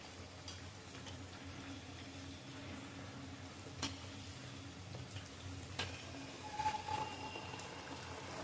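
Potatoes fry in a pan for aloo palak bhaji, a soft, steady sizzle at low level with occasional faint clinks and stirring taps.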